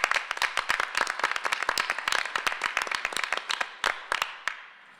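A small group at a waterfront planning meeting claps, with distinct individual hand claps in a loose, uneven rhythm that thin out and fade over about five seconds, fairly close and with no voices.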